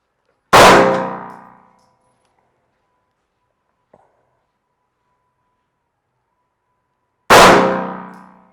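Two loud gunshots from a handgun fired with a two-handed grip with the pinkies wrapped, several seconds apart, each a sharp crack with a long ringing decay, plus a faint small clink between them.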